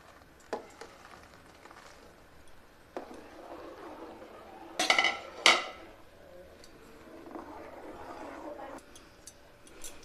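A spoon stirs melted jaggery in a metal pot while making chusi pitha. Quiet scraping is broken by a few sharp metallic clanks against the pot, with a clustered burst of rattling near the middle.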